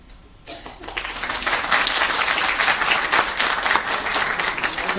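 An audience at a literary short story competition award night breaks into loud, sustained applause, swelling quickly after a quiet start and holding steady.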